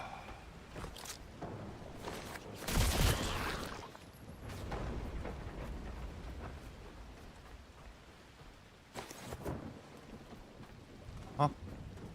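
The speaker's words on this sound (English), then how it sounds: "It's raining again." Steady rain in The Last Caretaker video game, a soft continuous hiss filling the background with a few brief louder bursts and someone talking over it.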